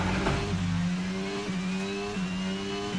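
An F1 car in the F1 22 video game at the French Grand Prix, its engine screaming and rising in pitch as it accelerates out of a corner, with quick upshifts. The sound is close and loud, with no talk.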